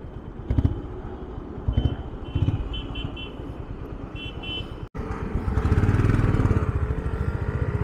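A 2022 Honda CB350RS motorcycle engine idles with a loud, steady rumble, then a brief dropout before it revs up and rumbles harder.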